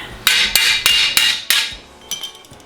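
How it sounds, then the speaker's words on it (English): Five sharp hammer blows struck at an even pace on the metal locking tab of a jack stand in a home garage, each impact ringing briefly before the next, followed by a couple of lighter taps. "There's a tab on the side of these things that apparently you're supposed to hammer in."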